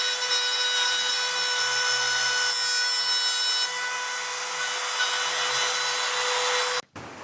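A power router with a different bit cuts a teak top for a fiberglass anchor box, a loud, steady high-pitched whine with grinding wood-cutting texture that runs continuously, then cuts off abruptly near the end.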